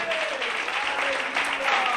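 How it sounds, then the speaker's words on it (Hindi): A church congregation applauds for Jesus in a steady burst of clapping lasting about two seconds, dense and moderately loud, with a voice briefly audible beneath it. "जोरदार तालियां मेरे यीशु के लिए बजा दें।"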